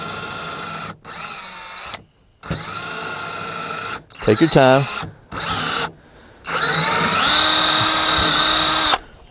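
A power drill whines in repeated bursts with brief pauses, grinding into fatwood for a fire steel handle, loud and close; a voice speaks briefly between bursts.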